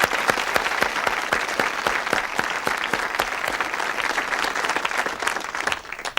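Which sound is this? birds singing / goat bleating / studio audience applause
studio audience applause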